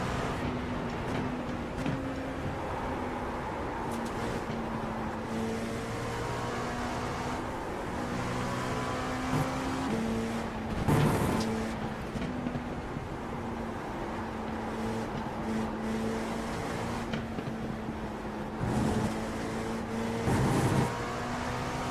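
A steady engine drone from an LMP2 prototype race car in iRacing during Le Mans 24 Hours qualifying, humming continuously with slight pitch shifts and occasional louder surges, no voices over it.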